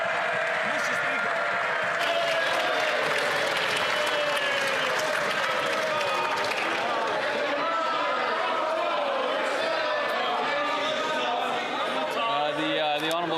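Sustained applause from a large parliamentary chamber crowd during Question Period, broad and steady for the whole stretch, with murmuring voices mixed in.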